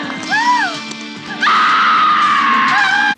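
A woman screams in the Italian horror film Rats: Night of Terror, one loud sustained scream with wavering pitch building up and cutting off abruptly, after a shorter cry at the start.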